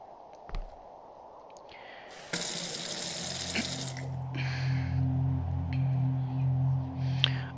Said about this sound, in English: Oh my, Barney, it works! We have water